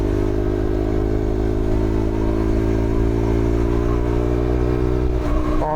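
A motorcycle being ridden on a solo ride, its engine holding a steady, loud, continuous drone with rushing wind and a slight shift near the end, with no speech.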